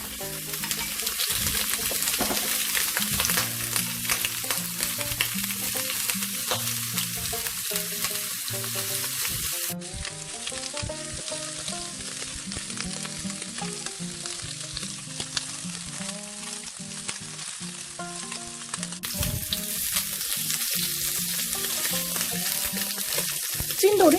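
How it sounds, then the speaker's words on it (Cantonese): Pork ribs pan-fry in hot oil, giving a loud, continuous sizzle with occasional stirring and shifting noises throughout. "煎一煎啲排骨，"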